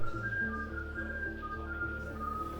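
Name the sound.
person whistling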